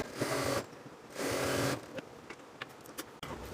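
Sewing machine double-stitching the hem of a ladies' pant, two sustained runs of mechanical whirring with a short pause between, followed by fainter handling clicks and taps.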